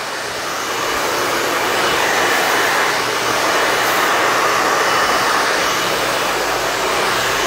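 A hair dryer blows on hair during a medium-length layered haircut with curtain bangs, a loud, steady, close whooshing roar that holds for the whole stretch with no talking.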